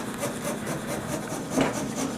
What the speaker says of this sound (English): you just want to insert the saw gently into the pumpkin and then saw all the way around